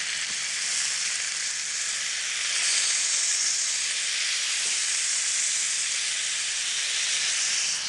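Chicken pieces brown in a hot pan, giving off a steady, even sizzle and hiss that holds at a moderate level from start to finish, with no voices.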